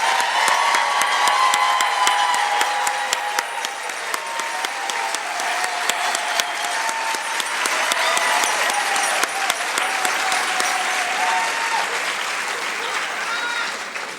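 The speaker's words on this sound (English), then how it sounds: "please stand for a round of applause" A large audience at an employee service awards ceremony applauds employees marking 25 years of service, a loud, sustained roar of clapping with some cheering mixed in, continuous for the whole stretch.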